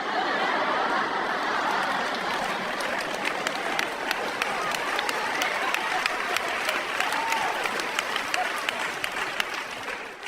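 Sustained applause from a comedy club audience fills the room, steady and dense throughout with scattered whoops and crowd noise mixed into the clapping.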